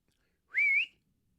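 A single short whistled note from a person, clear and close, rising slightly then holding before cutting off, set against near silence.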